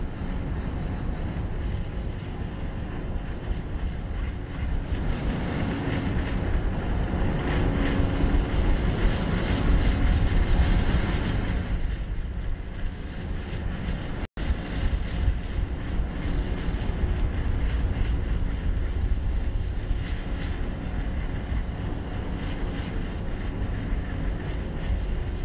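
Astra Rocket 3.3 engines roar continuously through the launch flight, a dense, steady broadband rumble that holds at loud, even strength throughout, with a brief dip partway.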